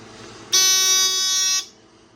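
A Simplex 4002 fire alarm panel's buzzer sounds during a system reset. It gives one loud, steady electronic tone that lasts about a second before it cuts off, over a quiet background hum.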